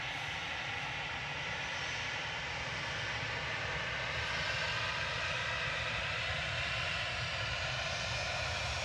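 An easyJet Airbus A320 jet departs Manchester Airport bound for Geneva, its engines roaring steadily and broadly at a moderate distance throughout, with no voices.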